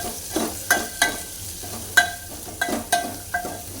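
Sprouted moth beans (matki) roast with onions in a pan, a soft sizzle broken by a regular series of sharp scraping stirs and clinks of a spoon against the metal, close and unaccompanied by talk.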